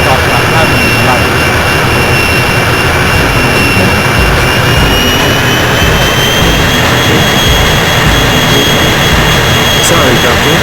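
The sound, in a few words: jet plane engine in video game 007 Racing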